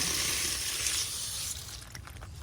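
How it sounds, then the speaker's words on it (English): Water escapes a freeze-cracked pipe in a house basement as a steady, close hiss, easing slightly toward the end. "there's a crack in the pipe from the water freezing, and the water is not only dripping down here"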